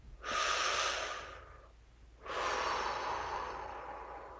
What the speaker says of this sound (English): breathing in through the mouth and out